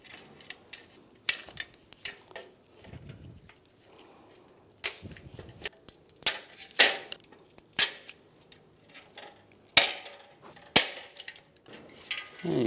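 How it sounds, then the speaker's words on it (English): Wiring harness retainers on a 2007-2013 Chevrolet Silverado 1500 being slid out with a trim tool, with sharp plastic clicks and snaps at irregular intervals between quieter scraping, close up and without talking. "Just use a trim tool, and where all the retainers are,"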